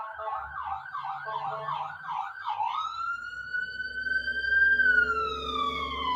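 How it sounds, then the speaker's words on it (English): An ambulance siren wails in a fast rising-and-falling yelp, then shifts to a long, sustained wail that swells louder as the vehicle draws nearer. "That sounds like an ambulance."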